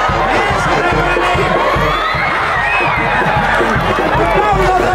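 A large crowd at a rural rodeo during Holy Week in Hidalgo, Mexico cheers, whoops and shouts loudly and continuously, with children's voices and chatter mixed into the dense roar.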